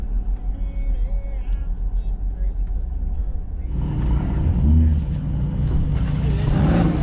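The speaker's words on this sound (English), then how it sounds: "there looks like a Porsche meet of some kind" Cars idling and revving at a gas station where a Porsche meet has gathered, a steady engine rumble that swells louder midway, with voices talking nearby.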